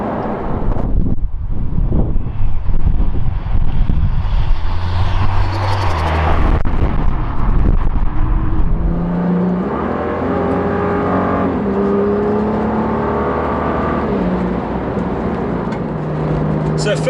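A 2017 Nissan GTR with a Stage 4 Litchfield upgrade at 675 bhp driving on a bumpy B road, engine revving through quick gear changes with rising and falling tones amid wind noise, someone talking over it.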